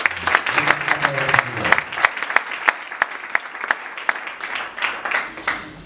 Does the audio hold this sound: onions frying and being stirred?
no